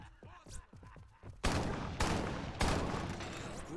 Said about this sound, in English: That is a fabulous shotgun.